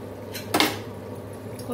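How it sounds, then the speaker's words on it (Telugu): A metal spoon clinks against a pot once or twice as cooked rice for a Guntur-style mutton yakhni biryani is scooped into a separate bowl, a short bright scrape in a quiet kitchen. "కొంత రైస్ని ఒక గిన్నెలో విడిగా తీసేద్దాము."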